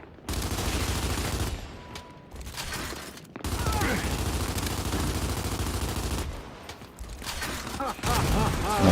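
Sniper rifle shots ring out in a shooter video game amid other gunfire, loud repeated cracks and dense bursts in clusters separated by brief pauses.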